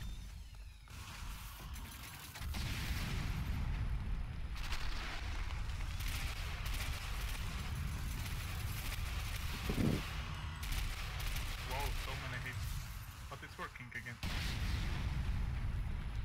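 Sniper gunfire in the video game Metro: loud, heavy shots and booming blasts over a constant roar of battle noise, with short quieter gaps between the heavy sections.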